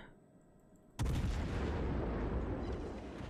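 A ship's guns firing HE shells in a naval video game: a single loud, sudden boom after about a second of quiet, followed by a long rumbling roar that slowly fades.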